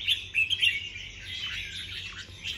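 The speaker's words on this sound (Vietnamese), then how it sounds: "Ok, chim cho mọi người xem này." A red-whiskered bulbul sings nearby, bright warbling chirps and trills rising and falling continuously, fairly loud, with no talking.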